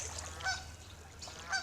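Geese with goslings near a stream at Donegal Springs in Lancaster County, Pennsylvania, giving two faint, brief honks about a second apart over quiet outdoor background.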